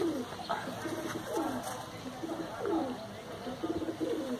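Pigeons at a Delhi pigeon club, with repeated soft cooing in rolling, rhythmic phrases from nearby birds, steady and moderately quiet over light background noise.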